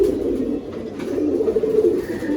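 Pigeons in a loft of longduma and other fancy breeds, giving a continuous low, throaty cooing that rolls on close and fairly loud with no talk over it.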